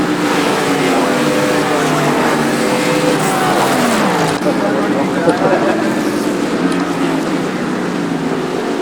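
A NASCAR Cup Series race car in the iRacing sim on the Indy road course roars loudly and continuously, its engine pitch sweeping up and down as it shifts and brakes through corners.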